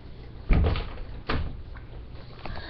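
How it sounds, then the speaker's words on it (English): A wardrobe door in a bedroom is pushed shut, giving two close, dull knocks about a second apart against quiet room tone, with no talking. "when we shut the door"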